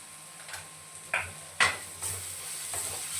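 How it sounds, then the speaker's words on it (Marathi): Turmeric dropped into hot oil with softened onion in a home kitchen pan, giving a steady close sizzle broken by a few sharp scraping stirs of a spoon. "कलर बदलला की लगेचच आपल्याला तेलामध्ये इथे टाकायची आहे हळद."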